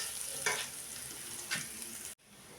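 Ginger and garlic frying in a pan for lentil dal, a steady soft sizzle with two brief scraping stirs, then a sudden drop to quieter sizzling near the end; close, no talking.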